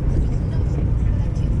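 Dense city road traffic near SM Megamall, a loud continuous low rumble of passing cars and buses with a voice speaking over it.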